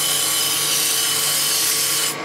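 Continuous dense scraping hiss of a turning tool smoothing rough tool marks on a multi-axis letter opener spinning on a wood lathe, with a steady motor hum underneath, close and unbroken.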